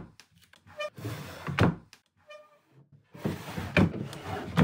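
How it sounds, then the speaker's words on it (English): Dresser drawers on a refinished piece of furniture slide open and shut several times, giving scraping glides that end in soft wooden thunks, close by with quiet pauses in between. "There's the drawers, work well."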